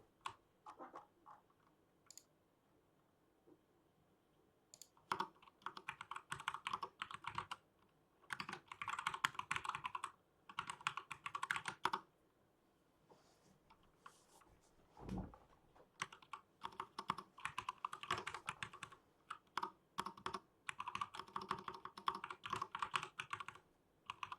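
Rapid bursts of typing on a computer keyboard while writing code, close and clear, coming in irregular clusters of key clicks with short pauses between them and no talking.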